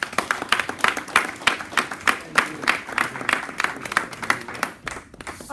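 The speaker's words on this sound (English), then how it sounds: "Give God a clap." A church congregation claps in a quick, fairly even rhythm, sharp individual claps standing out near and loud, tapering off and stopping near the end.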